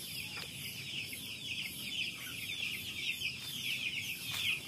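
Chickens clucking and calling in a home chicken coop, several birds overlapping in a steady busy chatter, fairly close, with no voices.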